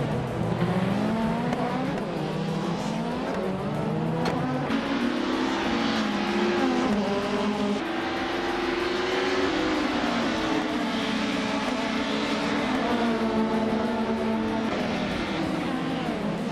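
Race cars competing in a video game race: a continuous engine whine that climbs and shifts pitch through gear changes, with overlapping cars close together and faint tire noise.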